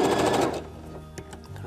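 A domestic sewing machine reinforces a seam on a small fabric pouch, its dense whirring burst loud at the start, then fading to light mechanical ticks and clicks.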